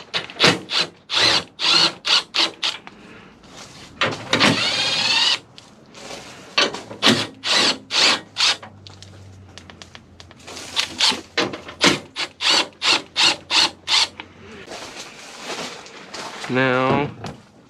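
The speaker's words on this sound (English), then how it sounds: "now we are gonna go ahead and start taking the bolt out for the grill" A hand ratchet clicks in fast repeated bursts while backing grille bolts out of a Chevrolet Silverado, loud and close, with brief pauses between runs.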